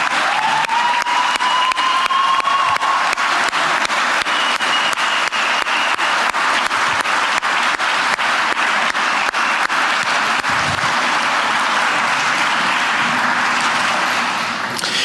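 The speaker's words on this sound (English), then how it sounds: "if you would please stand for a round of applause" A gala audience gives a long, steady round of applause for past Fairview Medal recipients, many hands clapping continuously at an even level throughout.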